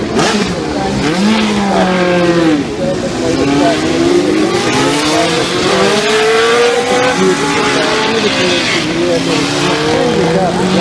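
A vintage racing car engine roars loudly throughout at a motorsport festival, its pitch climbing and falling through the gears, with a voice talking over the top now and then.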